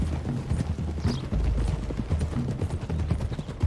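Horse hooves clip-clopping steadily while riding in Red Dead Redemption 2, a continuous galloping patter under a low rumbling background with no speech.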